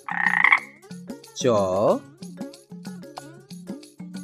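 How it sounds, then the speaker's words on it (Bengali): A frog croaks in a few drawn-out, throaty calls, with a light rhythmic accompaniment running underneath. "উঁয়োতে ব্যাঙ। ব্যাঙের বুঝি সর্দি হয়।"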